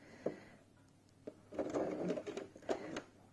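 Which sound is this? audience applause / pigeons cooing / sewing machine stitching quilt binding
sewing machine stitching quilt binding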